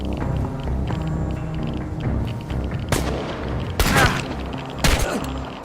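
Gunfire rings out in the video game Chernobylite, with a low rumbling bed giving way to a few sharp, loud shots and bursts spaced over the last few seconds.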